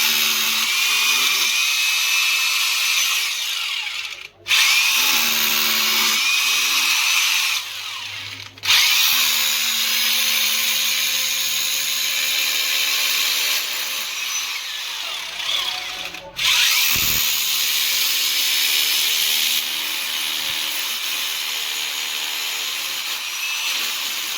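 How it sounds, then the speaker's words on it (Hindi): A hammer drill bores holes in a loud, continuous grinding whine, stopping briefly three times between runs, close and dominant with no talk. "इसको जैसे ड्रिल से हम हैमर में कर लिए, और हैमर में करने के बाद इस जगह पे ड्रिल करेंगे।"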